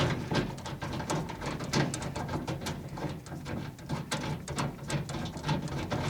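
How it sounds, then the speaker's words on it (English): A fastener is ratcheted tight during a 454 big-block engine swap into a Ford truck, giving rapid, steady mechanical clicking up close with sharper metallic ticks throughout and no talk. "Screw it in tighter maybe."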